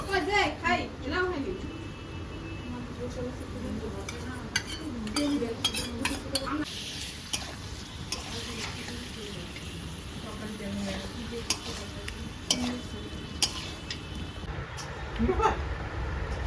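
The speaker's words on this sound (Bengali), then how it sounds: "গ্যাসটা কমিয়ে নিয়ে এই যে ফেটানো দইটা এটা এখন দিয়ে দিব।" Whipped yogurt being stirred into a hot frying pan on a lowered gas flame while luchi and aloo dum are cooked, with spoon scrapes and pan clinks against a faint sizzle, and a person talking throughout.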